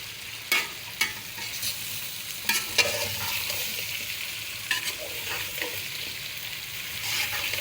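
Arbi (taro root) sizzling as it fries in a pan on a low gas flame, with a spoon stirring and scraping through it in a few distinct knocks over steady close frying, no talking.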